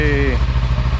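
A Kawasaki Ninja 300 motorcycle engine idles steadily and close by after a jump start, with a low pulsing rumble throughout and a short whine at the start.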